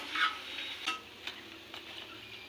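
Cabbage pakoda frying in hot oil, a soft steady sizzle with a few light clinks of a utensil, including a sharper scrape near the start, close by and with no talking.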